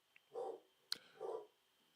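A dog named Ace barks twice indoors from another room, two muffled, evenly spaced woofs with a brief sharp click between them, faint and distant.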